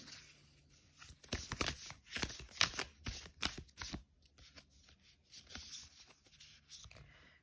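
Tarot cards drawn from a deck, a run of quick papery slides, flicks and shuffles close up, busiest in the first half and then thinning to softer rustles.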